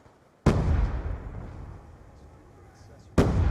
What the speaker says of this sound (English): Scorpion's a really good gun if you can control the recoil